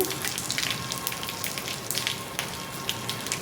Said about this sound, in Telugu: మనం గింజలతో సహా తీసుకున్నాం కాబట్టి ఇలా వడగట్టుకొని నిమ్మరసాన్ని పోసుకోండి.